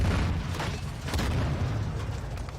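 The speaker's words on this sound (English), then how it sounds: "Throwing flash grenade." A flash grenade thrown and going off in Warzone 2, a dense low booming roar with scattered bursts lasting throughout, loud and close, with no speech over it.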